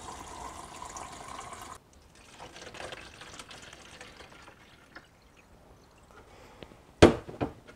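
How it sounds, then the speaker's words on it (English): Kodak Xtol film developer is poured from a graduate into bottles, a faint liquid trickle and fill that stops partway, followed by quiet handling and a sharp knock near the end. "I'll pour it into my bottles."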